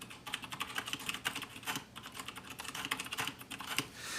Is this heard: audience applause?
no